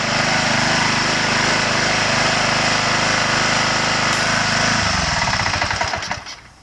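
A Craftsman power washer's small gasoline engine runs loud and steady with a close, rough droning roar, then sputters and winds down in the final second.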